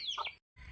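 Young chicks near a mother hen give a couple of thin high chirps close by, split by a brief silent gap.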